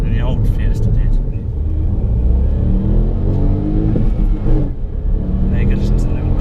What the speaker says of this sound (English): You can just hear the turbo powering away.